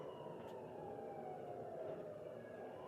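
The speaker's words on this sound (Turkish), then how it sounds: "ambulans geliyor." A steady, wailing ambulance siren in the video game GTA drones continuously at a moderate distance, fairly quiet and alone without speech.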